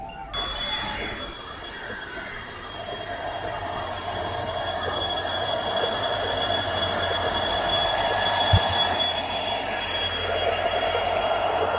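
Express special train 06470 from Nilambur Road to Shoranur pulls into platform 1 behind a Golden Rock locomotive, with a sustained high wheel squeal and steady rolling rumble that build gradually.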